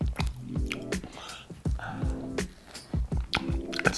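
Biting into and chewing an Ole & Steen-style cinnamon social pastry with a crusty egg-washed exterior, giving repeated close crunches and moist chewing sounds in an irregular rhythm.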